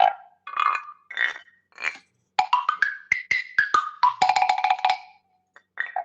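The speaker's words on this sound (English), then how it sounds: "It's some sort of woodblock contraption given to me by a good buddy, Matt Hunter." A handmade woodblock percussion contraption is struck in quick irregular bursts of hollow, pitched wooden knocks, close and clear, with short pauses between the phrases and no talking.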